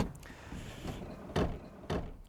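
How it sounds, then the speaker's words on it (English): Mechanical clunks and a rolling slide come from the rear sliding door of a Ford B-Max as it opens, ending in two firm louder thuds close by. "The B-Max obviously has the sliding door"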